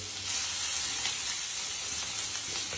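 Onions sizzling in a frying pan as they are lightly stirred, a steady bright hiss of frying held at an even level throughout, with no voices.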